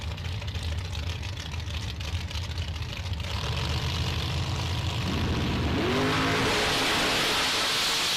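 Drag race cars, Gary Smiley's S10 and Mark Nettesheim's Camaro, rumble loudly at a bracket race; the engine noise builds steadily throughout, with a rising rev sweep toward the end.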